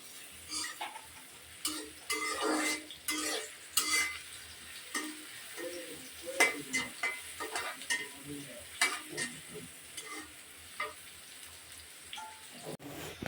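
Onion and garlic fry in hot oil in a pan, a soft crackling sizzle broken by repeated scraping stirs of a spoon, fairly quiet and close.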